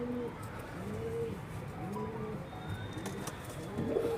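Pigeons coo repeatedly in a loft, a steady run of soft, low, throaty calls rolling one after another with some faint chirping and background rustle.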